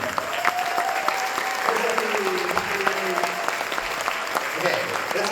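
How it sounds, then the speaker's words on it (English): Audience applause at a school instrumental music concert, continuous clapping with sharp individual claps standing out, under a voice talking over it throughout. "let's give them a huge round of applause, everybody"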